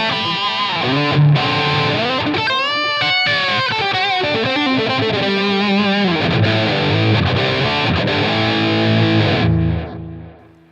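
Electric guitar notes through a Helix preset with flanger, high and low shelf EQ, transistor tape delay and reverb, sweeping and warbling, with echoing repeats and a long reverb tail fading out at the end.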